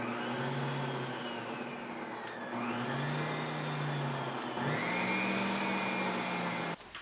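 Eggs are beaten with an electric mixer for bread rolls, a steady, loud motor whine that shifts pitch in three stretches as the load changes, then cuts off abruptly near the end.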